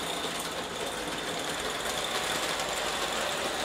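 An Aster gauge 1 live steam Titfield Thunderbolt locomotive hauls Meccano wagons with a steady, close mechanical chuffing and rattling hiss that carries on without a break.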